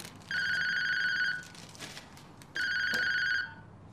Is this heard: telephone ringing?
yes